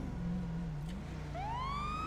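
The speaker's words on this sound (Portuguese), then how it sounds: "Tem que ter a sirene, ó." Police car siren in a GTA FiveM roleplay game: one rising electronic wail starts partway through and climbs steadily over a low engine hum, with no talk.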